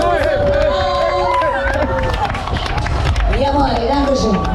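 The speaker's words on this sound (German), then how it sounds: "Wenn ihr normal wollt, müsst ihr jetzt alle in die Hände klatschen." Riders clap their hands on the Circus Circus fairground ride at a Düsseldorf funfair. The claps are loose and scattered, mixed with crowd noise and a loud voice calling over the top, with fairground music and bustle behind.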